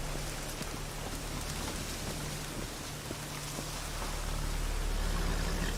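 Steady rain pours down in the video game The Witcher 3: Wild Hunt, a dense, hissing wash with a low hum beneath and no voices.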